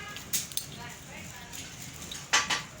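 Metal clutch plates being fitted into a Honda motorcycle clutch, giving a few short metallic clinks and scrapes spread through a faint workshop background with a voice in the room.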